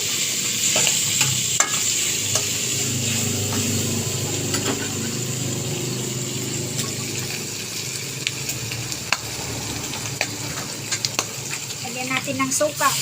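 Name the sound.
stirring pork adobo in a pan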